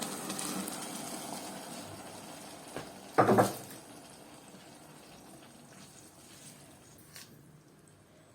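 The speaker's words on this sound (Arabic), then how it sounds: "يكون عندي عصير طماطم، انزل بيه بقى كده على البصله" Tomato juice is poured over onions in a pan, a brief loud gushing splash in the middle, with a faint sizzling hiss before and after.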